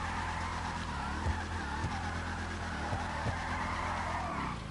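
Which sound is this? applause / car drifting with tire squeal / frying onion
car drifting with tire squeal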